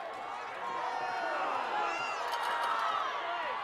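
Stadium crowd noise at a high school football game, Lake Zurich at Pekin, a steady broad roar of many voices swelling slightly as fans urge a snap late in the game, with nearby talk mixed in.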